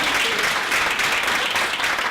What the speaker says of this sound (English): If you want to clap for her.